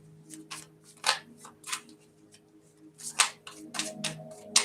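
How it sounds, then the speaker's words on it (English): Tarot cards shuffled during a reading, in quiet bursts of riffling and crisp card slaps, several distinct flurries spaced a second or two apart, close and soft. "Shuffling quite easy here."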